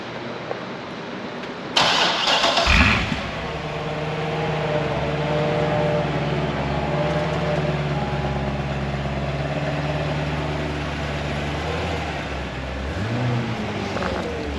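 A Corvette C6 Z06 with a 500 hp engine cranks and fires up, a brief loud starter whir and catch, then settles into a deep, steady, rumbling idle close by.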